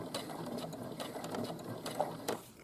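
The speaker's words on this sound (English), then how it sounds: "I'm going to stitch off the end." Sewing machine running steadily, mechanical whirring and rapid rhythmic clatter close by, as it stitches off the end of a 5/8-inch sample seam, with no talking.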